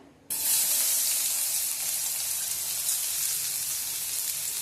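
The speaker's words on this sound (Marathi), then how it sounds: "आता आपण याच्यामध्ये फोडणीला लसूण घालूया." Garlic drops into very hot oil for a tempering, and a loud, sudden burst of hissing sizzle erupts after a brief quiet moment, then holds as a steady, bright crackle.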